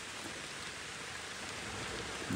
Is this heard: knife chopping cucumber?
no